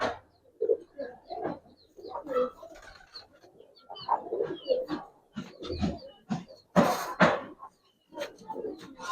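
A male Giribaz pigeon of an old silver breed coos close up in short, uneven bursts, mixed with scattered rustles and handling noises.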